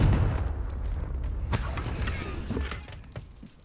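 The Confringo fire spell is cast in Hogwarts Legacy, producing a sharp burst and crackling impact followed by creaking, rattling debris that fades off over a few seconds, with no voices.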